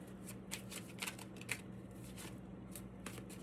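Tarot cards shuffled by hand, a steady run of soft, papery riffling flicks close to the listener over quiet room tone.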